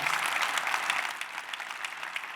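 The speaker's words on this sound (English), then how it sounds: "Let's give Olivia another round of applause." Audience applause at a Detroit NFL Draft countdown event, steady dense clapping from a crowd sustained for the whole short stretch.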